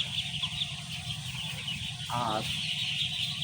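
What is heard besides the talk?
four-day-old ducklings peeping on a duck farm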